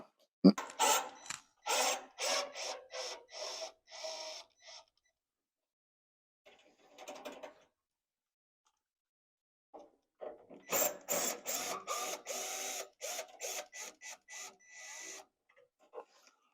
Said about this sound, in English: So I'm going to get to work on these clamps and start to loosen these up.